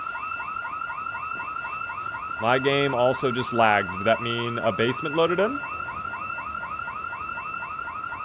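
Facility alarms blare in Week One: The Ark, with a steady high pulsing tone through the whole stretch and a loud wailing siren sweep rising in the middle, while a voice talks over it.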